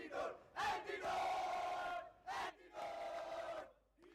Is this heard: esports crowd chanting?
yes